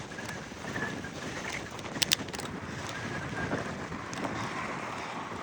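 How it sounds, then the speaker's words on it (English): Wind rushes steadily past a microphone during a bicycle ride, a continuous broadband roar and buffeting that fills the whole stretch, with a couple of brief clicks and no speech. "That dang wind don't help either."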